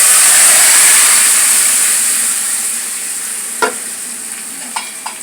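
Red lentils with malabar spinach fry and get stirred in hot oil, making a loud, close, hissing sizzle that gradually eases off, broken by a few sharp spoon clicks against the pan near the end.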